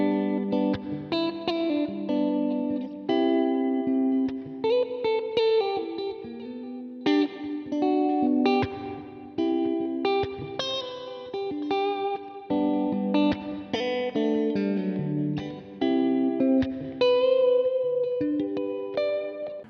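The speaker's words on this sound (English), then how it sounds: "So this Mayones doesn't just do metal and kind of proggy sounds" A Mayones electric guitar plays blues licks with a clean-to-lightly driven tone, phrases of single notes and bends in bursts with short pauses, close and alone with no talk.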